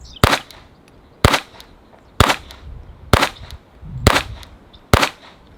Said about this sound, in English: I shoot this gun a lot suppressed